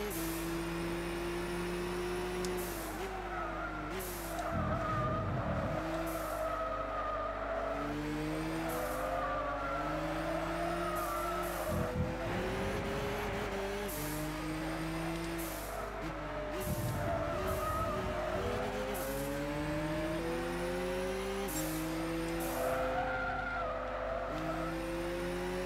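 A Subaru race car in Gran Turismo 6 screams through corners, engine pitch rising and dropping with repeated gear shifts, while tires skid and squeal steadily under the loud, continuous drone.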